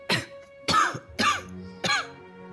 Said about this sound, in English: I hear people coughing in the back